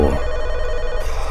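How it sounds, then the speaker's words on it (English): A telephone bell rings in a short, rapid metallic trill, loud and close, lasting about a second before cutting off. "But the phone, it rang the second I put the key in the door."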